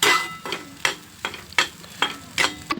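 Egg bhurji with chilli powder is stir-fried in a pan, with about seven sharp scraping stirs at a steady rhythm over a soft sizzle, close and unaccompanied by talk.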